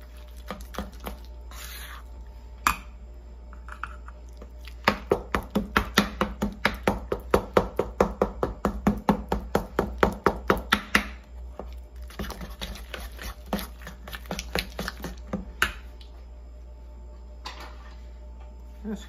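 Quick rhythmic tapping and scraping of a spoon against a bowl while eggs are beaten into cuca cake batter, a dense run of sharp clicks in the middle with sparser strokes before and after.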